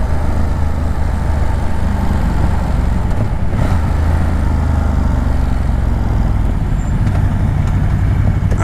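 A 2017 Ducati Monster 1200 motorcycle engine drones continuously at low rpm while riding, a loud, rough, steady rumble mixed with wind noise, with no clear rise in pitch.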